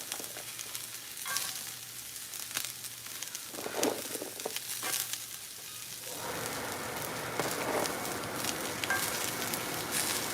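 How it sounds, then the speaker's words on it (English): Onions in hot oil sizzle and crackle in a pan, with scattered stirring clatters early on, then a louder, steady frying hiss. "so we're just getting our onions sauteed"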